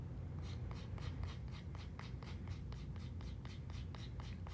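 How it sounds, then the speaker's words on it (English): Chalk being scraped into a cup with kid scissors makes a steady run of quick, rhythmic rasping strokes, close and faint against a low background hum. "just kind of like scrape it in the cup"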